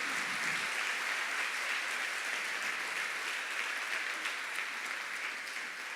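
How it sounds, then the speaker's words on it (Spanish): Sustained applause from a church congregation at a women's gathering, a dense, even wash of clapping that carries on for several seconds, loud and unbroken. "¿Le das un aplauso al Rey,"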